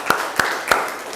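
Students clap their hands in a classroom, heard as three crisp, evenly spaced claps close by in quick rhythm.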